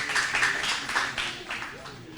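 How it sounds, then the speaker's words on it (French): An audience claps for a student answering correctly on a Haitian school quiz show, a short burst of scattered applause that rises and then thins out over two seconds, with a voice speaking over it. "Je vous demande de l'applaudir, s'il vous plaît."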